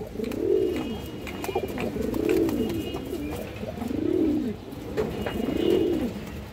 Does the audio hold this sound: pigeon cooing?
yes